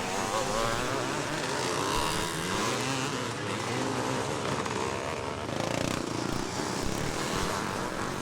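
Veterans' motocross racing at Farleigh Castle, with a Suzuki and a Honda bike coming down a hill; loud, continuous engine revving and snarling as the motorcycles pass, nearby and unbroken throughout.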